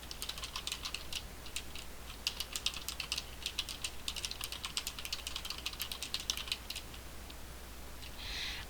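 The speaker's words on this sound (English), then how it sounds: "so I can type in a description" Rapid, close clicking of fingers typing on a computer keyboard, a steady run of crisp keystrokes with brief uneven pauses, heard alone in a quiet room.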